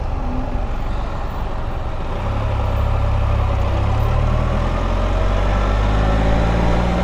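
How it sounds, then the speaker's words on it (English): A Can-Am Ryker or Spyder RT three-wheeler braking while its automatic transmission downshifts. The engine drone is loud and close, and a rising low rumble sets in partway through as the gears step down. "So now I hit the brake, and you can hear it downshifting for you. You can hear it kind of going through the gears."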